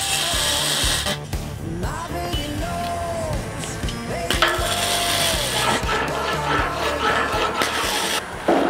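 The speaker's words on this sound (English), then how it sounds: "If you're going to file the hardest stainless that you've ever come across, make sure you're doing it with the shittiest file you can find." A rusty, worn hand file scrapes across very hard stainless steel on a stabiliser locking arm, producing steady, harsh rasping strokes with a metallic whine, close and loud, continuing without pause.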